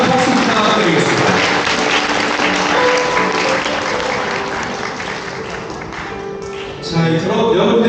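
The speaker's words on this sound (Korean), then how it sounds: "오늘 축하드리는 박수 부탁드리겠습니다" Guests at a wedding ceremony applaud the bride and groom, sustained loud clapping filling the hall, easing slightly toward the end before swelling again, with a voice speaking over it.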